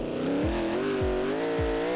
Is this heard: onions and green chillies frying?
no